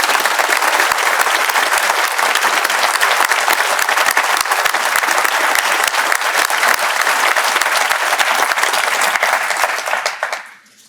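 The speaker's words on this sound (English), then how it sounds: "let's take a moment and give a round of applause and appreciation for all of those that serve us in that capacity" A large audience at a district attorney's swearing-in ceremony applauds in appreciation of law enforcement, a loud, dense, sustained wall of clapping that holds steady for about ten seconds before fading out abruptly at the end.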